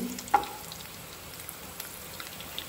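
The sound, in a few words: cashew dry fruits frying in ghee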